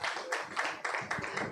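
Conference audience at a blockchain business event breaking into applause: dense, lively clapping in several surges, close and loud, with no voices over it.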